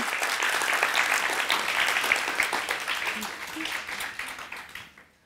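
Studio audience on a Kurdish Family Feud game show breaking into applause, a dense clapping wash that stays strong, then thins and fades out near the end.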